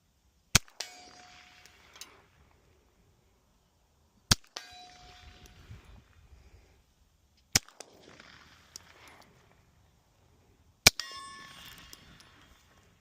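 Steel target rings from bullet hits, fired through a JK Armament 105 CCX suppressor at a range: four sharp metallic clangs spaced a few seconds apart, each followed by a brief decaying ring, heard from behind the shooter.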